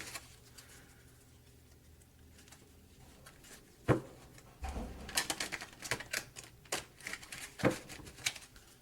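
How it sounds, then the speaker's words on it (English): Tarot cards being shuffled by hand, with soft irregular flutters and riffles, then a few sharper taps and card snaps growing busier in the second half, close and moderately quiet. "If you came for the shuffling, you'll be disappointed because I'm not great at it."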